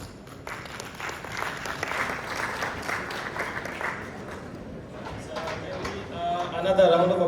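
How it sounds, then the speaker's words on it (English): An audience at a textile, leather and fashion event in East Africa applauds Richard Davis, sustained clapping from many hands with a voice speaking over it near the end. "Another round of applause for Richard Davis there"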